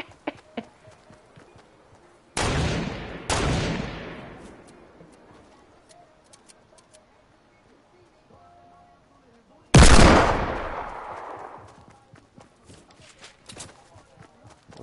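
Three heavy Desert Eagle pistol shots in a PS4 shooter, each a sharp, loud crack with a lingering echo, the first two close together and the third after a long gap, with soft footsteps between.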